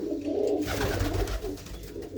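Surkha pigeons in a loft coo softly and continuously, close by, their low murmuring calls overlapping with a faint rustle and no speech.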